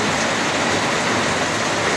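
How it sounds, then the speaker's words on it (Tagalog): Heavy typhoon rain pouring down in a steady, dense roar that fills the clip, loud and close with no pauses. "Lalakas ang ulan."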